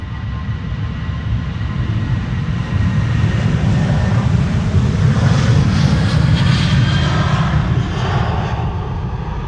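A KLM airliner takes off from Schiphol on a flight to Dublin, its jet engines building into a loud, low rumbling roar with a rising whine that swells toward the middle and then holds steady, no voices.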